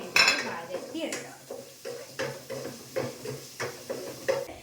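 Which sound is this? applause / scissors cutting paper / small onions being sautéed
small onions being sautéed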